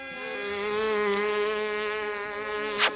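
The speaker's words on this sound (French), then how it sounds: "Notre dernier espoir, c'est de capturer cette horrible mouche." A cartoon fly from the Smurfs buzzes steadily in a tight, nasal drone, loud and close, holding on for about three seconds before a brief sharp burst near the end, with no talking.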